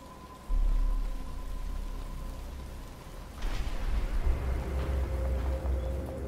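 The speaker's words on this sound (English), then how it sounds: "But it's starting to rain." Rain falling in the video game Batman: Arkham Asylum, a steady hiss of downpour that swells louder partway through, with a low rumble underneath and no voices.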